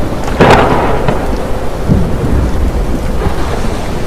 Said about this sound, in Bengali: তারপরে উঠল তুমুল ঝড় আর সেই সাথে বজ্র বিদ্যুৎ সহ বৃষ্টি